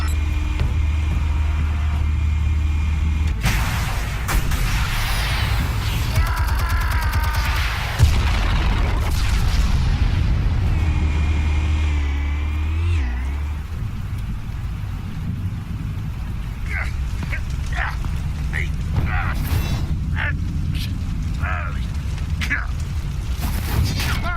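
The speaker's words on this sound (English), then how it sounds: "Explosives armed. Fire when ready." Explosives detonate in the Batman: The Telltale Series video game, heavy booming blasts and low rumble rolling over a sustained loud soundscape with game voices speaking.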